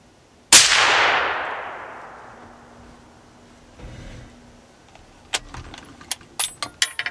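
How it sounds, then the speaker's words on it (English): A full-power .30-06 rifle fires a single 150-grain Remington factory round through a homemade suppressor, giving one loud, sharp report with a long fading tail, followed by faint clinks and small handling clicks. "So here's the full power, right out of the box, 150 grain Remingtons."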